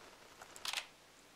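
A camera shutter fires in the video game Zelda: Majora's Mask, a brief, crisp double click standing out sharply over a quiet background with no talk.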